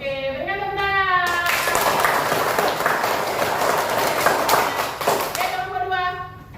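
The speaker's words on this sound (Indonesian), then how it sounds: "Oke, berikan tepuk tangan." A classroom of students claps their hands together in a dense, lively burst lasting several seconds, loud and close, with a few voices heard before and after.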